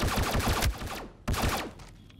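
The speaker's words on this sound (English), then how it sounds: "My pistol does fire." Pistol fire in the Star Citizen space game, version 3.7.1: two sharp shots, each followed by a short ringing decay, spaced just over a second apart and loud against a quiet background.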